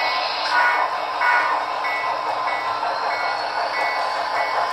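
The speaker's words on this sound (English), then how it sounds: "let's get this passenger train moving." An HO scale model passenger train runs steadily along a home layout, producing a continuous thin mechanical whir with faint rhythmic clicks from the track, heard up close and alone.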